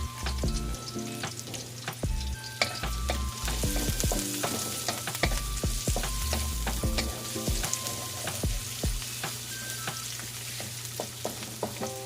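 Onion and garlic sizzle and fry in a pan for fish escabeche made with tilapia, with a steady loud crackle broken by frequent sharp stirring clicks and scrapes; no one speaks.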